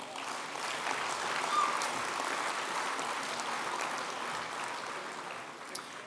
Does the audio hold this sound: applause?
yes